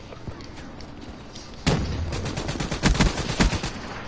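Gunfire in the video game Black Ops 3 during a hardpoint match, quiet at first, then bursts of rapid shots and sharp cracks crowding the second half, loud and close.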